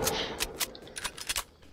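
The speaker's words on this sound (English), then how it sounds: "I hear gunfire." Video game gunfire crackles in a quick irregular string of sharp, fairly loud shots and bursts, with short gaps between them and no talk.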